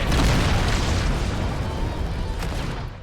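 A rocket explodes in Halo 2 with a loud, close boom that rumbles and slowly fades out.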